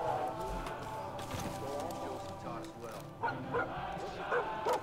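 A dog barks and yips in the video game Far Cry 5 at a pumpkin farm, several sharp barks near the end over busy game sounds, with talking throughout.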